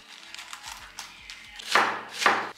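A knife slices cabbage on a cutting board for a Jamaican breakfast, giving a run of soft taps that ends in two louder, crisp cuts, close and with no talking.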